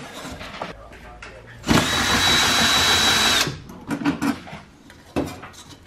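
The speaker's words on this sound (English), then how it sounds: "To put the credit card reader, I have to unscrew this." A power drill whirs steadily for about two seconds while unscrewing a vending machine panel, loud and close, surrounded by metallic clinks and handling clatter, with people talking around it.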